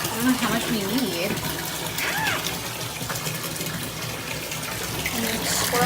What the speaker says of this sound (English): pour it under warm running water